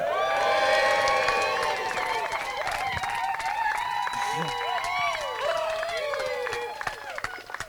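Wedding guests in Spain cheer and whoop loudly during a speech, a crowd of overlapping shouts and high cries, some claps, with voices rising at the start and gradually trailing off.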